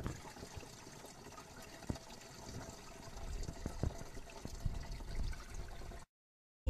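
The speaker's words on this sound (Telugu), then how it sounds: "ఇక వడికట్టిన కషాయాన్ని ఈ విధంగా స్ట్రైర్లో పోసుకోవాలి" Strained herbal decoction, made as a pest remedy, is poured into a sprayer tank with a soft, continuous liquid trickle and splash that swells slightly before stopping abruptly.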